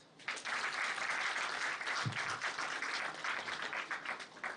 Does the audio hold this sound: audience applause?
yes